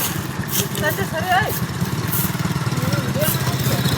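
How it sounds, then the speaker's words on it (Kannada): A motorcycle engine hums steadily underneath while someone talks over it almost continuously. "ಈ ಥರ ಬೈಕ್ ಮೇಲೆ ಹೋಗ್ತಾ ಇರ್ತೀನಿ ನೋಡಿ ಸ್ನೇಹಿತರೆ"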